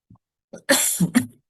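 A single harsh cough bursting out in two quick, loud pulses, close to the mic and alone, coming from a lecturer partway through a geophysics class.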